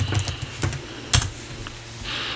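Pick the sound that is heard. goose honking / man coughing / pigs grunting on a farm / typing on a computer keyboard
typing on a computer keyboard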